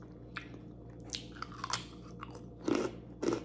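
Crunchy jackfruit chips bitten and chewed up close, a few crisp crackling bites and chews with two louder crunches near the end, over a low steady hum.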